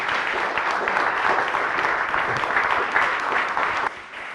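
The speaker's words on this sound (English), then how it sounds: "One big applause for." An audience at a startup product-promotion talk applauds, a dense, steady wash of clapping that stays loud throughout and eases off slightly at the end.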